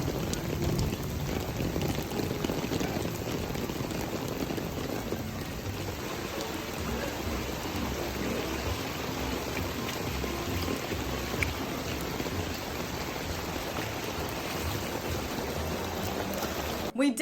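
Heavy rain pours down steadily on the deck of the Disney Dream cruise ship, a dense, continuous wash of hiss and splatter that holds loud and unbroken throughout.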